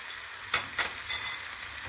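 Ground meat fries in a pan with a faint, steady sizzle, punctuated by a few brief scraping stirs.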